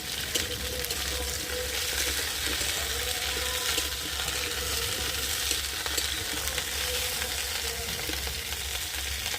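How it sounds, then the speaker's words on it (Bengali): Cauliflower florets fry in hot oil, giving a steady, close sizzle and crackle that holds evenly throughout with no voices. "ওই জন্য আমি কপিটাকে আগে ভালো করে ভেজে নেব।"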